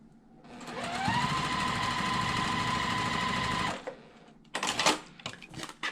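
Sewing machine stitching quilt block pieces for a block-of-the-month quilt, a steady loud run of about three seconds that stops abruptly, followed by a few brief clattering handling sounds.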